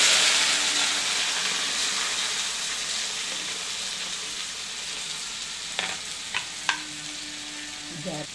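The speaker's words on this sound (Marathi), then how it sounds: "आता हे तेलामध्ये टाकायचं भाजी कट केलेली ती." Cut shevali vegetable fries in hot oil with a loud, steady sizzle and hiss, close up, joined near the end by a few brief clinks of a utensil against the pan.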